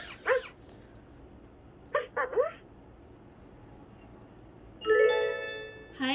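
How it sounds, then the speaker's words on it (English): An interactive toy puppy gives several short electronic barks and yips in separate bursts, the last a longer whining bark, close and clear over a quiet room. "when you bark or speak to the puppy, it will respond and imitate your barks"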